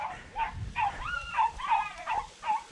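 Greyhounds chasing hares during a hunt, with a series of yelping barks and yips repeating in quick irregular bursts, moderately loud and somewhat distant over a low rumbling outdoor background.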